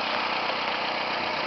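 A 1995 Toyota Corolla DX four-cylinder engine idles steadily, a close, even rumble with a faint rhythmic pulse and no voices over it.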